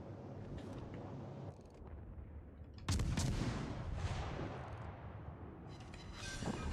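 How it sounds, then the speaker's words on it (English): Heavy naval gun salvos from a warship in World of Warships Legends, booming blasts with a loud main volley midway, followed by rumbling echoes and further firing. "Just gonna go ahead and open up with the guns"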